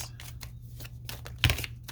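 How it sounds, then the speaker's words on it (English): A deck of tarot cards is shuffled by hand at close range, giving a series of soft papery riffles and flicks with a sharper snap near the middle. "2 more shuffles."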